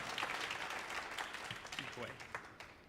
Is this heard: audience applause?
yes